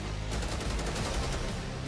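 Hip-fire gunfire from the video game Black Ops 6, a dense unbroken stream of rapid shots over a constant loud rumble of battle noise.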